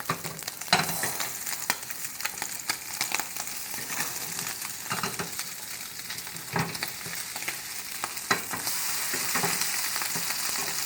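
Crab cakes fry in a hot pan with a steady, close sizzle, with frequent small crackles and pops running throughout and no talking.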